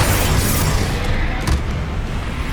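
Confringo blasting spell explosions in the game Hogwarts Legacy, with loud, dense booming bursts that run on top of each other across the whole stretch, plus a sharp crackling pop near the middle.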